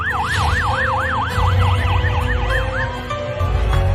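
An ambulance siren wails loudly and close, its pitch sweeping up and down in rapid repeated cycles over a low traffic rumble.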